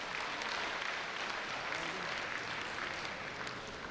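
An audience at a live stand-up comedy show applauds together in a dense, steady wash of clapping that lasts the whole moment, with no pause.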